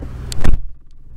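A four-wheel-drive car pulls away through deep snow during a blizzard in Paw Paw, West Virginia, with a short, loud burst of engine and tyre noise that quickly settles into a quieter low rumble.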